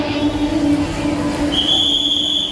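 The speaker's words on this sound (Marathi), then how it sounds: "ही बघा, एक ट्रेन सोडली आम्ही आता जस्ट" Rumbling local train noise close by as a train departs, joined halfway through by a sustained high, shrill whistle tone.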